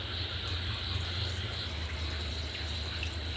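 Food being rinsed under a running kitchen tap, a steady close hiss of flowing water that continues without a break and with no voices.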